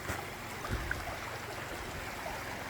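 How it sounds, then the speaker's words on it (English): A brook runs under a small bridge on flooded rural property, giving a steady, moderately quiet rush and babble of flowing water with no break throughout. "here's the brook running under my bridge"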